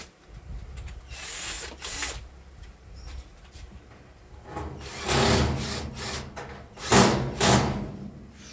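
A screw being driven into electric oven parts during a repair: a close, grinding power-driver whir that runs in several bursts, louder toward the end, with no talking.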